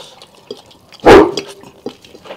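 A dog gives one loud, close bark during a family meal, with faint clicks and clatter around it.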